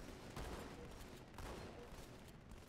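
Shotgun blasts and other gunfire in a Halo match, dense and continuous with several sharper reports rising out of a steady din of combat.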